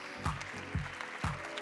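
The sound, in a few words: audience applause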